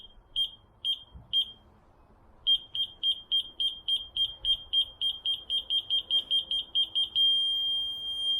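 An aftermarket parking sensor beeper in a Fiat Ducato, Peugeot Boxer or Citroen Relay van beeps slowly, pauses, then beeps faster and faster until it merges into one steady high tone.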